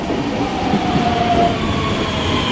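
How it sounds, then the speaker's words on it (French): A train rolls into a station with a steady, loud rumble of wheels on rails and a faint metallic squeal partway through, with no voices. "Bon, ça y est, on est à la gare, on est arrivé."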